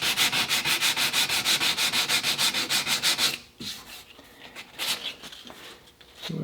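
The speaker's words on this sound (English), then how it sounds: "I think the 180 grit is more than adequate for walnut." Walnut rifle stock sanded by hand with 180 grit sandpaper: fast, regular back-and-forth rasping strokes close up, then slower, irregular rubs and pauses.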